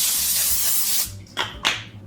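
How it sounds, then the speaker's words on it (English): A steady hiss of cooking spray onto parchment in a baking pan for about a second, then quiet, followed by two more short spray bursts, close and fairly loud. "give that a quick spray."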